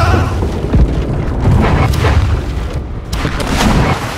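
Ship cannons firing in the pirate naval game Blackwake, a dense run of heavy booms and rumbling blasts rolling one into another, loud and close, with no voices over them.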